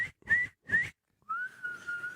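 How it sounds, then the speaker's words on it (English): A person whistles three short clear notes, then one longer sustained tone that wavers slightly, close and alone without talk. "Do you not know how to whistle?"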